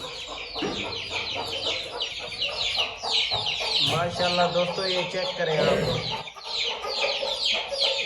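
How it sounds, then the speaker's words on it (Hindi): Aseel hens cluck repeatedly while chicks peep in high, busy chirps throughout, close by; someone talks over the flock. "ये मुर्गियां भी पड़ी हैं बच्चों वाली"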